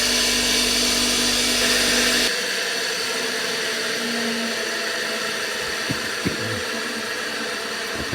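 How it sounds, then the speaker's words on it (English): A coarse power sander grinds against a tobacco pipe being finished, a loud steady whine for the first two seconds, then a lower continuous buzzing hum with a few sharp clicks near the end. "that's more than I'd normally take off with such a coarse sander"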